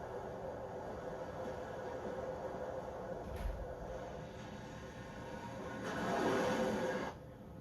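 The Glacier Express rumbles up the Vorderrhein valley toward Disentis in Switzerland, a steady rolling rail noise with a brief thump midway and a swelling rush near the end.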